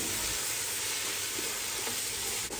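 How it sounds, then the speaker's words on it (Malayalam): Ginger and garlic being sautéed in a pan for Thalassery-style beef dum biryani, a dense steady hiss of frying oil, close and even throughout, without speech. "ഇനി നന്നായിട്ടൊന്ന് വഴറ്റിയെടുക്കുക."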